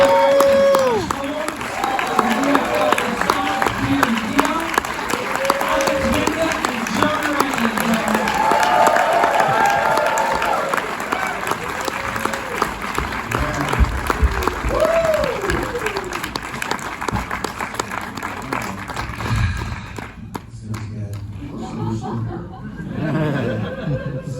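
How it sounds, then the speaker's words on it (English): Sustained applause from a large audience at an advance film screening, with scattered laughter and cheers, voices mingled in, fading out near the end. "a big round of applause for the people that we're about to have up on the stage"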